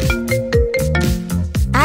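A phone ringtone plays a short melodic tune of bright repeated tones for an incoming call, loud and close for about two seconds, with a voice heard faintly alongside.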